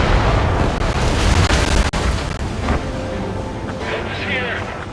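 A missile explosion in the video game Ace Combat 7, a loud rumbling blast within constant jet and combat noise, with a sharp crack partway through and fading debris afterward.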